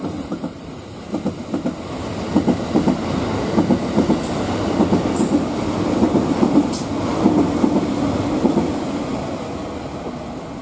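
The JR East Train Suite Shiki-shima, a ten-car E001 sleeper train, runs steadily along the rails, a continuous rumble with rhythmic clicking from the wheels over the track joints.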